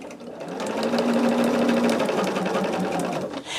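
A sewing machine stitching quilt patches together, a steady close, rapid mechanical whir and needle chatter running continuously for several seconds before easing off near the end.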